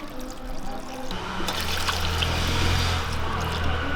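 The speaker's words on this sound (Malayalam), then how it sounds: "ഇനി നമുക്ക് ചേമ്പിൻ്റെ നിരപ്പിന് വെള്ളം ഒഴിച്ചു കൊടുക്കാം" Water pours steadily into a cooking pot of taro (chembu) pieces with a continuous trickling, splashing rush, fairly close and building slightly in fullness as it goes.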